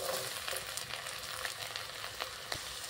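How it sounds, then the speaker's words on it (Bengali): Chopped carrot hitting hot oil in a wok gives a continuous, close frying sizzle with crackling pops, fairly quiet and steady with no voices. "তেলটা গরম হয়ে গেছে। তেলের মধ্যে দিয়ে দিচ্ছি গাজর কুচি,"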